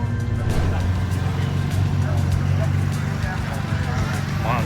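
Race car engines warming up in the paddock at a Gridlife festival at Laguna Seca, a steady, loud, low idling drone with several motors overlapping and a faint voice underneath.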